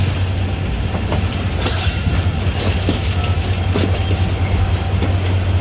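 Pakistan Railways Sir Syed Express train with its locomotive, a loud constant low rumble and engine drone up close, with wheel clatter, faint squeals and metallic clinks throughout.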